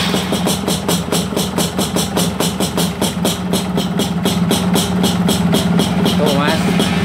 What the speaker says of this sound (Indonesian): Kita coba, kita tes starternya mas.